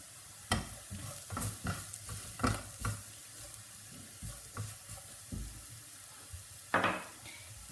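Masala with Kashmiri chilli powder and garam masala fries in a pan for egg puffs, quiet sizzling broken by a series of spoon scrapes and taps against the pan, close and without talk.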